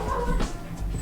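Dogs barking and whimpering indoors, short yips and a whine over a brief moment, fairly close, with no one talking.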